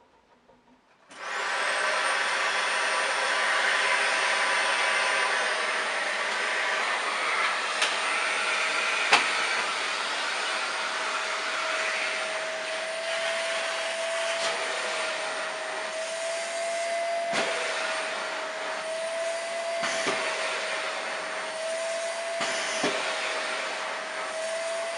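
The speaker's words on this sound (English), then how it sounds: "my 2021 Dyson Small Ball Allergy. And we're going to be doing a sofa demo." A 2021 Dyson Small Ball Allergy upright vacuum cleaner switches on after a second and runs loudly on a sofa, giving a steady high whine. Faint bumps and shifts in tone come as it moves across the cushions.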